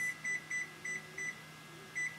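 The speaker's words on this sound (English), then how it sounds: "Let's set the timer for 8 minutes." Six short, high electronic beeps in a regular pattern, a brief pause before the last, over a faint hum.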